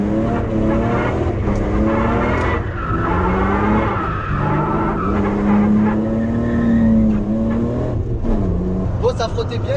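A BMW E30 rounds a small roundabout with oversized tires rubbing against the fender, its engine droning steadily while a scraping, squealing rub rises and falls, with a voice talking over it.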